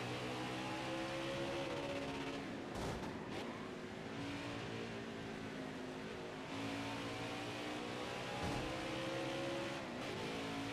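Racing truck engine in a video game lap at Sonoma, droning steadily with sustained revving harmonics and brief gear-shift dips, loud and continuous throughout.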